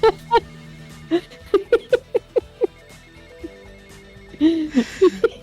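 A phone rings inside the video game GTA Vice City, a series of short repeated electronic ring tones heard alongside game sounds, with laughter and chatter from players mixed in.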